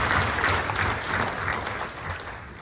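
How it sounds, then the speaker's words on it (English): A small hall's audience claps at a medical students' speech event, a thick, even burst of many hands that runs strongly throughout and eases slightly toward the end. "give a big round of applause"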